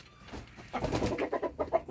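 Barred Rock hens cluck softly inside a breeding hut, a short run of low close murmuring clucks that builds over a couple of seconds.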